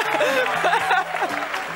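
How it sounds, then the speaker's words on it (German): Crowd at the 2015 DFB-Pokal draw in Reutlingen breaking into a brief burst of cheering and clapping, with voices rising over it in a noisy, lively hall. "Leipzig auch aus dem Topf, was für Jubel sorgt, Andrea"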